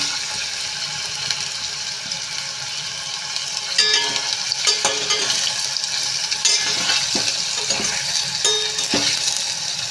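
Paneer pieces frying in a pan, a steady crackling sizzle with scattered sharp pops and clicks that get busier partway through, close and without talk.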